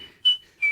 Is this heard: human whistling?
yes